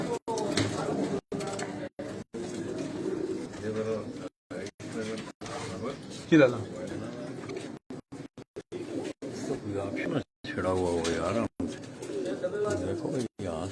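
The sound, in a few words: cooing of a black Chinese pigeon (female)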